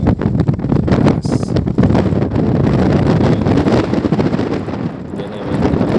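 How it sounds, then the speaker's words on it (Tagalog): Strong wind buffets the microphone in a steady, loud roar for several seconds, easing briefly near the end. "Lakas ng hangin"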